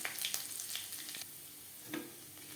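Grated ginger stirred and fried in a pan over low flame, a faint sizzle with a cluster of scraping stirring strokes early on and another near the end, close but quiet, no voices.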